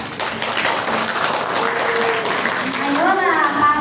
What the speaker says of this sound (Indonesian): Ayolah tepuk tangan.